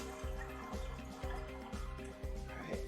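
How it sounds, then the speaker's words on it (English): Water drips steadily from the bottom of a ZeroWater filter, a regular train of close, distinct drops falling about twice a second over a low background hum. "you can see it's just dripping out the bottom there"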